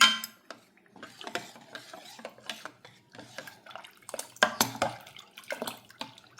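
Custard powder is stirred into mango kheer in a pot, a spoon scraping and knocking against the vessel in quick, uneven strokes, close and fairly quiet with short pauses between bursts.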